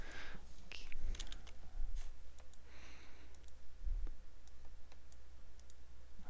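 Someone types a file name on a computer keyboard, producing scattered light key clicks at close range over a quiet background hum, with no talk.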